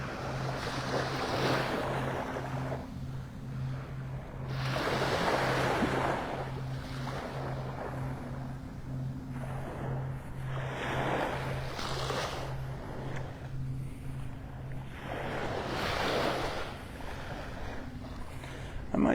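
Ocean waves break on the beach by the Naples Pier in Old Naples, Florida, in repeated swelling washes a few seconds apart, with steady wind rumble and a faint regular hum underneath.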